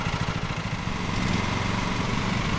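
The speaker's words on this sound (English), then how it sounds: "I like how I'm stretching on the lawnmower a little to increase throttle." Lawn mower engine in Lawn Mowing Simulator revving as the throttle rises, a steady buzzing drone with a pulsing rhythm that smooths out, loud and close.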